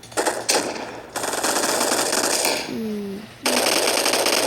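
Gunfire in a shooting video game, long bursts of rapid automatic fire with brief pauses between them, loud and close, under a player's occasional talk.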